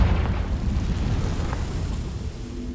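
A Confringo blasting spell from Hogwarts Legacy erupts as a dense, rumbling explosion with heavy low boom, sustained and loud across the whole moment without talk.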